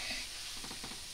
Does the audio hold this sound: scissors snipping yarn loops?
no